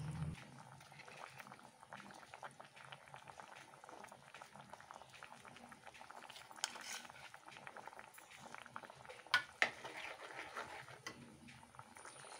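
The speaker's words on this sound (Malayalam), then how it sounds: "തക്കാളി ചേർത്ത് തിളച്ചു" A breadfruit curry with blended tomato boils in a pot, giving a soft, continuous bubbling. A couple of brief knocks sound near the end, with no voices.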